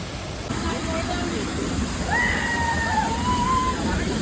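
Waterfall water rushing on a trip to a falls, a loud steady broadband roar that fills the whole clip, with a voice briefly heard over the torrent.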